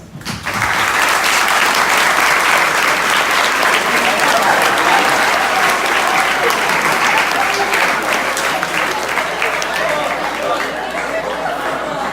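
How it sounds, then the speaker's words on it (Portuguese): A large audience gives a loud, sustained round of applause to welcome a presenter, dense clapping lasting over ten seconds with chatter and a few chuckles underneath, fading slightly near the end. "Por favor, recebam com muitos aplausos."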